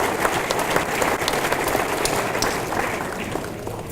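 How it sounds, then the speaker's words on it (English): Applause for volunteers at a veterans luncheon, a large room of people clapping together in a steady dense roar that holds throughout, slightly easing toward the end. "if we can give a round of applause to all of our volunteers"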